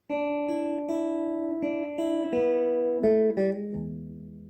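A short melodic intro riff from a blues song on a clean electric guitar, plucked notes bending and stepping downward before settling on a low final chord, played alone.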